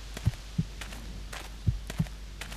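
Low paired thumps of a heartbeat sound effect in the video game Still Life pulse steadily and close, two clear double beats against a faint background hum.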